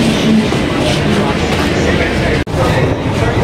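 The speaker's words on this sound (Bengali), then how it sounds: "এটা হচ্ছে দিল্লির মেট্রো রেল" A Delhi Metro train runs with a loud, continuous rumble and rattling wheel clatter, with a brief dropout partway through and voices in the background.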